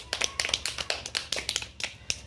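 A small audience claps for a lucky winner, a quick burst of bright, uneven hand claps in a loose rhythm, close and fairly loud, with no talking over it.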